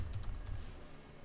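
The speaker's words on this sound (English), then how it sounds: "Then begin typing." Quick, quiet keystrokes on a computer keyboard, a short burst of soft taps over a low background hum with no voices.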